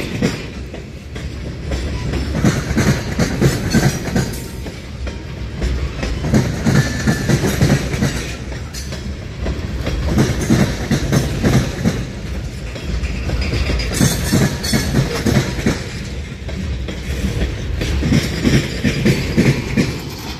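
Railroad cars roll past close by in a steady, loud rhythmic clickety-clack of wheels over rail joints, continuous for the whole stretch with no voices.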